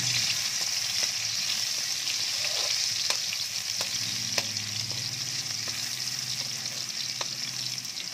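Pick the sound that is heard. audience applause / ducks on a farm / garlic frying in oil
garlic frying in oil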